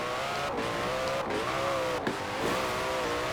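A 2020 Koenigsegg Jesko in Forza Horizon 4 revs hard with its wheels spinning on a wet road in sixth gear, a loud, continuous engine drone that rises and falls, broken by brief shifts.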